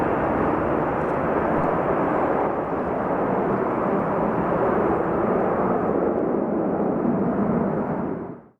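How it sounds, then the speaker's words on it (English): A United Airlines plane roars steadily during takeoff, a loud broadband jet rumble holding for several seconds before cutting off abruptly; no voices. "This United Airlines plane hit some trouble during takeoff"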